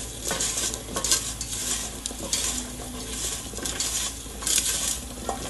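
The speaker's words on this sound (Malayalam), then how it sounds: "പിന്നെ മഞ്ഞപ്പൊടി ഇതൊന്ന് മിക്സ് ചെയ്യാം" Salt and turmeric being stirred into a jackfruit curry: close, busy scraping and clinking stirs against the pot, with sizzle-like hiss running continuously and no talk.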